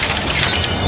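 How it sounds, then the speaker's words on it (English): A stylish glass coffee table smashes after being thrown, giving a brief, loud burst of shattering glass and clinking shards with no voices. "Now a stylish glass coffee table."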